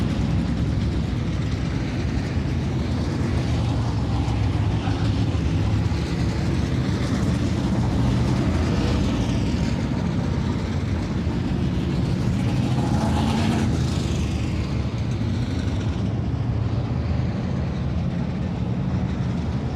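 Heavy trucks rumble steadily while prepping the bottom of the Cedar Lake Speedway dirt track before late model hot laps, a continuous loud low engine drone with no speech.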